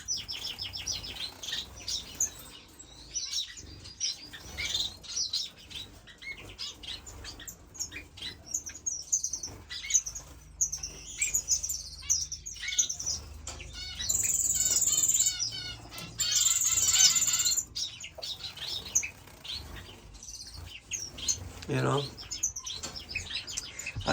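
Finches, including star finches, chirp and tweet repeatedly in quick high bursts in an indoor bird room, some near and loud, others fainter, with occasional squawks and quiet background noise.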